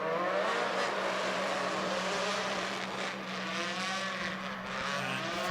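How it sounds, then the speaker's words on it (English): WRC1 rally cars warming up on the start line at the Monza Rally Show 2024 at the Monza circuit, giving a steady, loud engine drone that holds for the whole stretch with no voices. "we can actually hear the sound of the WRC1 rally cars warming up as they take their places on the start line"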